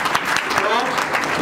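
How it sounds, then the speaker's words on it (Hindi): Audience applause at a Hindi film launch event honouring world champion powerlifter Gaurav Sharma, dense clapping heard under a voice speaking over it. "तालियों के साथ, चमचमाती हुई तालियों के साथ"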